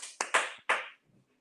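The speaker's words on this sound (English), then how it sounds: "Clap it up for that poet." A few separate, sharp hand claps sound close to the microphone during a virtual poetry slam, three or four quick smacks that fade out into quiet.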